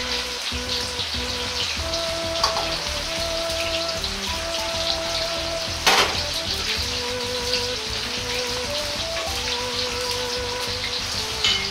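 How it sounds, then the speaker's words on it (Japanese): Eggplant deep-fries in hot oil with a dense, steady crackle and hiss like rain, continuous and loud for the whole stretch, with faint tonal background sounds underneath. "油が高温になったらナスを入れ、揚げていきます。"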